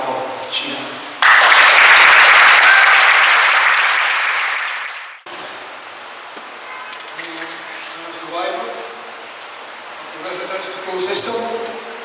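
An audience at a Toronto rally bursts into loud, sustained applause for about four seconds, then it fades into scattered clapping and murmuring crowd noise.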